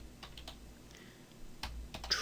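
Computer keyboard typing in a quiet room, with quick clusters of key clicks, a brief pause, and then a few sharper, louder keystrokes near the end.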